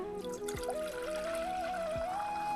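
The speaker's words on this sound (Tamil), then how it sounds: "நல்லா தண்ணியை ஊற்றிட்டு இப்போ அது கொதிக்கட்டும்" Water poured into a pot to make a herbal cough remedy decoction, a close trickling stream whose pitch rises steadily as the vessel fills, heard alone without speech.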